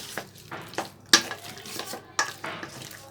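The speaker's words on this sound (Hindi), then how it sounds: "अब हम इसमें डालेंगे चिकन और इसे भी हम अच्छे से मिक्स कर लेंगे" Chicken pieces are mixed into a gram flour batter in a bowl, giving a run of wet, squelchy stirring strokes and light scrapes about every half second, close and fairly quiet.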